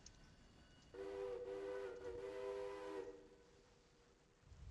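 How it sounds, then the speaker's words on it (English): A passenger train arriving in the video game Railroader sounds a steady whistle for about two seconds, loud against a low rumbling background that continues afterward. "the passenger train should be entering our screen any second now"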